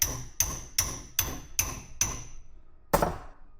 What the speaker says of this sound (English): Tap, tap, tap with the hammer.